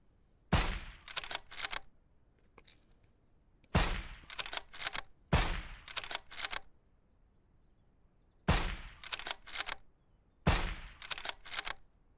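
Suppressed gunshots in the survival game SurrounDead, heard as repeated bursts of sharp, close shots with two to four rapid reports in each group and near-silent gaps between groups, with no speech.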